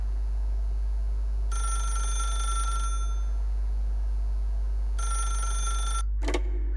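A telephone in The Stanley Parable rings in two long electronic bursts separated by a pause, followed by a brief click, over a steady low hum.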